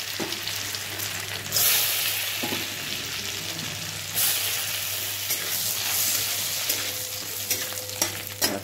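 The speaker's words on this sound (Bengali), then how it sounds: "কড়াইয়ে ঘি গরম করতে দিয়েছি, এর মধ্যে কাজুগুলো দিয়ে দিলাম।" Cashews frying in hot ghee in a wok, a loud continuous sizzle with bright spitting bursts and scraping stirs at intervals, alone without talk.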